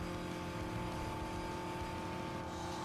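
A racing car engine in Need for Speed Most Wanted drones steadily at high revs, a constant tonal hum with no pauses, heard fairly quietly.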